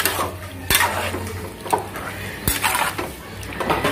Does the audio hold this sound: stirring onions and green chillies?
yes